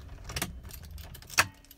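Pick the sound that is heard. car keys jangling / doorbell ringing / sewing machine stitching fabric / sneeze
car keys jangling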